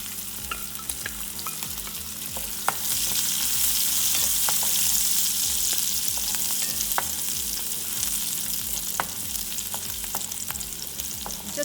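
Cumin seed, finely chopped ginger, garlic and chili sauté in a hot pan for a toor dal, giving a steady, loud sizzle with occasional scraping stirs throughout.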